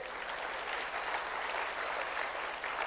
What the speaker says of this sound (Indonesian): beri tepuk tangan pada Tuhan